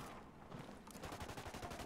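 Gunfire in the video game Ghost Recon: Wildlands, a quiet, steady burst of rapid shots that thickens into a dense fusillade partway through, heard faintly in the distance.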